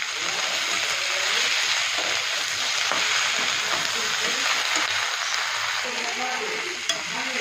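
Chicken gosht sizzles steadily in a pan with coriander and mint leaves as it is stirred, a continuous loud frying hiss with soft scraping throughout and one brief clack near the end.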